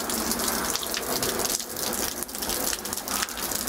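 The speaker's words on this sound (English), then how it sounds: "So pouring down rain, gutters are leaking." Pouring rain with leaking gutters, a dense steady hiss of water splashing and gushing onto surfaces, close and loud throughout.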